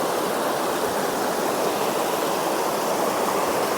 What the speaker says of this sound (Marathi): हे बघा मोऱ्यांमधून पाणी कसं येतं आहे